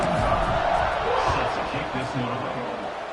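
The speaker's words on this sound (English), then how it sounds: "this crowd is buzzing after that last score." A stadium crowd in a College Football 26 video game, SMU against KSU, keeps up a steady, distant buzzing roar beneath a commentator's talk.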